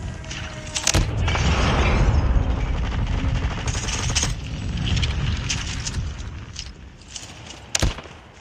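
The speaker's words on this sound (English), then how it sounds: "Friendly airstrike incoming." Airstrike blasts in a video game: a sharp crack opens a sustained rumbling barrage with rapid gunfire, it fades toward the end, and another sharp blast lands near the close.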